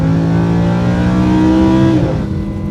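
A 2016 Lamborghini Huracan LP 610-4 engine revs hard and loud at close range with a rising, sustained howl that drops away abruptly near the end.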